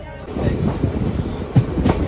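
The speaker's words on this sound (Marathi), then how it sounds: "ट्रेन सुटलेली आहे" Tutari Express passenger train moving off from a station, a low steady rumble of the carriages with soft rhythmic wheel thumps, heard from inside a crowded coach.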